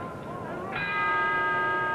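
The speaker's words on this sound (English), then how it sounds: "Bell for round 7, Paolo Rosi, the black trunks, Carlos Ortiz" A boxing ring bell rings once to open round seven of a 1961 televised fight, its tone sustaining and ringing out over a murmuring arena crowd.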